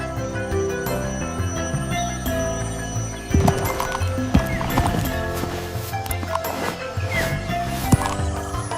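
A white horse's hooves clip-clop along with neighing, set against continuous music, with a sharper burst of activity midway and the hoofbeats staying fairly prominent throughout.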